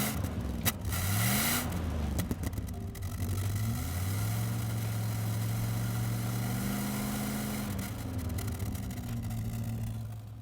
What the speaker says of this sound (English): can I start it up and listen to the V8?